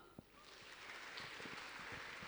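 An auditorium audience applauds IMAC performers at a pharmacy conference, a faint, steady patter of clapping that swells slightly and carries on throughout.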